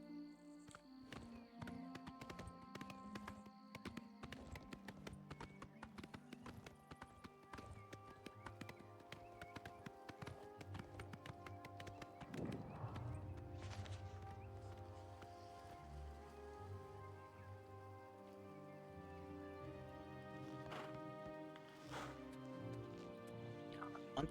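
Horse hooves clip-clop steadily in Oblivion Remastered as a horse is ridden, a quick continuous rhythm of hoof strikes mixed with game ambience and a few louder impacts.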